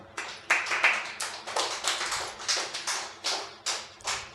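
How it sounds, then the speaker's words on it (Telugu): An audience at a church sermon claps in unison, a run of about a dozen sharp, evenly spaced claps at a steady rhythm, fairly close and clear, with no talking over them. "చప్పట్లు కొట్టండి"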